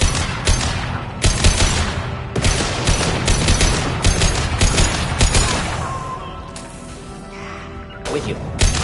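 Loud, close sniper and rifle gunfire in the Mass Effect 2 video game, a dense fusillade of sharp cracks and impacts that tapers off before a final burst near the end, with no voices.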